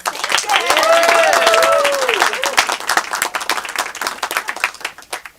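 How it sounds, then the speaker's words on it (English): An audience applauding a monologist at a live comedy show, a burst of clapping that swells and then thins into scattered claps, with a voice rising over it early on. "let's give a big round of applause for our monologist"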